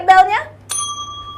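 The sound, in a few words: quiz bell being pressed as a test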